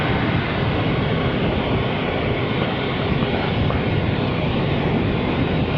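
A Honda CL500 motorcycle cruising on the road past another vehicle, heard as a steady, unbroken roar of engine and wind noise from start to finish, with no distinct passing swell.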